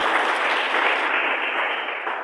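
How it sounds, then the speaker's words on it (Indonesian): Congregation applause in a church service: dense, steady clapping from many hands, held at an even, fairly loud level for a couple of seconds with no break. "Tepuk tangan bagi Tuhan."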